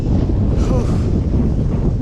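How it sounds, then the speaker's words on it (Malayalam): A strong wind at Siruvani dam buffets the microphone in a constant, heavy roar that fills the whole stretch, with no voices. "ഭയങ്കര കാറ്റ് എന്ന് പറഞ്ഞാൽ ഭയങ്കര കാറ്റാണ്."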